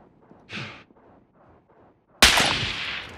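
Gunfire in a video game: a short whooshing crack, then a loud sharp shot with a trailing echoing tail near the end, otherwise quiet low background.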